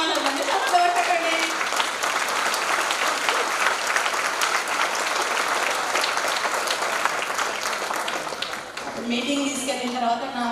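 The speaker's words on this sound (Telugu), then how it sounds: "మీ ఆరోగ్యం బాగుండాలంటే చప్పట్లు కొట్టండి" A large audience at a women's empowerment meeting claps steadily and loudly, dense applause filling the whole stretch before thinning toward the end as a voice begins speaking.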